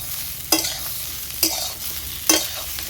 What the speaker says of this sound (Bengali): এটা এবার আমি ভেজে নেব।